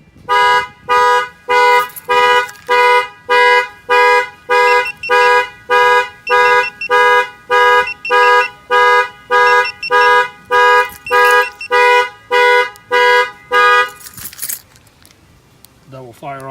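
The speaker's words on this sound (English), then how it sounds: "that will fire off the alarm" An Avital 3305 car alarm siren goes off loudly after the window is banged, sounding a fast series of about twenty evenly spaced harsh electronic chirps for around fourteen seconds before cutting out.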